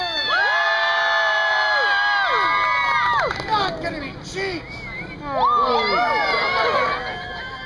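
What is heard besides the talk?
crowd cheering at a fire-breathing show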